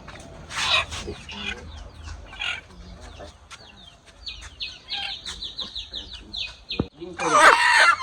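Chickens cluck and squawk as they are caught at a rural home, with agitated bursts close by and louder alarmed cries near the end, while people talk in the background and other birds chirp.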